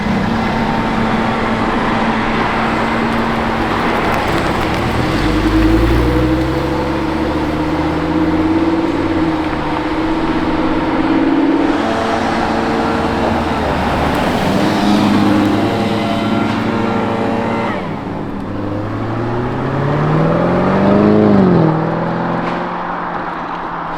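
A Lamborghini Revuelto's V12 engine drives on the road, loud and close, with its pitch climbing and falling through several revs and gear changes, ending in a sharp rising surge near the end.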